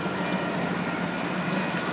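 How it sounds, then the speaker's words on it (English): A train passes by with a continuous loud rumble and rattle of wheels on rails, steady and close throughout, with no talking. "Look at that train."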